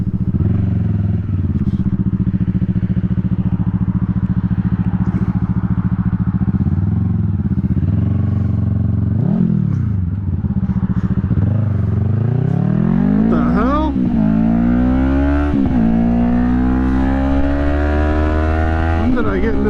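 A Yamaha R3 motorcycle being ridden, its loud close engine droning steadily, dipping at gear shifts, then revving and climbing in pitch as it accelerates hard toward the end.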